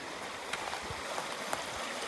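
Water flowing in a small stream between two mountain backpacking lakes in Kananaskis Country, a steady close wash of rushing water with occasional gurgles and splashes, no talking.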